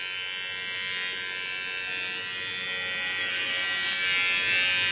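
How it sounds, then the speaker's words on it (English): A small Theo hair clipper buzzes steadily and close while cutting short hair, a continuous high-pitched electric whine with no pauses, heard alone. "Take my smallest Theo clipper."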